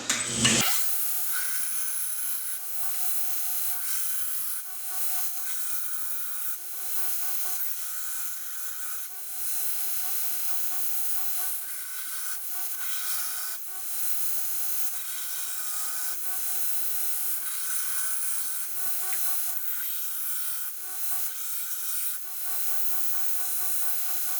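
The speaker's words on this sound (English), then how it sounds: "So I'm going to grind this other side down for you, and feel free to watch." A belt grinder running 200-grit A65 belts grinds down the tang of a handmade knife to taper it, a steady, loud, continuous abrasive whine that starts abruptly and holds for over twenty seconds with no talking.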